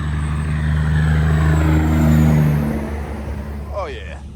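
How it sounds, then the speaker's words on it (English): A nearby Peterbilt truck engine labouring under load, a deep sustained rumble that swells and then eases, with a brief rising whine near the end. "There's a Peterbilt working hard."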